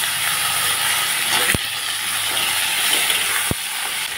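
Eggplant pieces frying in hot mustard oil, added after potatoes were browned, give a steady, loud broadband sizzle and hiss throughout with two sharp clicks from the pan, and no talking.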